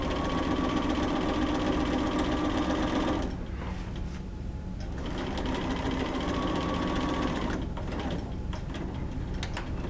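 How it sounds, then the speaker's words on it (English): A sewing machine stitches a flat felled seam with a loud, continuous mechanical whir and rapid needle clatter, pausing briefly twice before running on again close by. "sew a couple of stitches, back stitch, and then sew all the way down"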